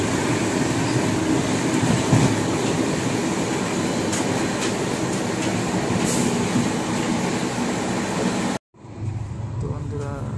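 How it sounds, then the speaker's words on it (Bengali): A train running at high speed makes a loud, steady roar and rumble of wheels on rails, with faint clicks and a brief squeal, before the sound cuts out and returns more muffled. Voices can be heard faintly. "বিশাল স্পিডে চলছে ট্রেন এখন।"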